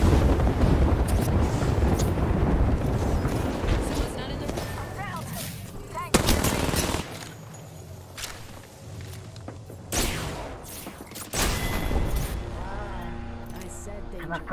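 Heavy, booming Kraber sniper rifle shots in Apex Legends ring out a few times between stretches of gunfire and footsteps, with people talking excitedly throughout.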